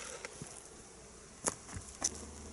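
Honeybees buzz around a spring swarm hive being inspected, a soft continuous hum with a few individual bees passing close by in brief louder bursts, and some light tapping and handling noises.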